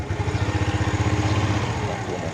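An Absolute Revo motorcycle, around fifteen years old, idles close by with a steady, even putter of rapid engine pulses that holds throughout and eases slightly near the end.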